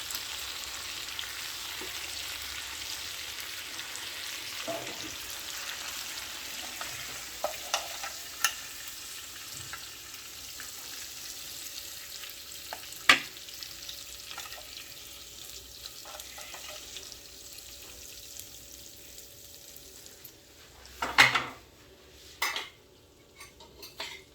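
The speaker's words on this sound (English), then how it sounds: "in this same juices we're going to toss the sliced onions and sliced tomatoes" Sliced onions and sliced tomatoes tossed in leftover pork chop juices in a pan, a steady soft sizzle with scattered utensil scrapes and clinks, growing louder with several sharp knocks near the end.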